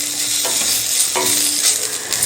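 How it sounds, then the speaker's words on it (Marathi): Onion and garlic cloves sauté in a pan with a loud, close, steady sizzle, broken by the scrape of stirring. "कांदा थोडासा भाजला की यामध्ये लसूण पाकळ्या घालायच्या आहेत आणि कांद्याबरोबर लसूण पाकळ्यासुद्धा थोड्याशा परतून घेऊया"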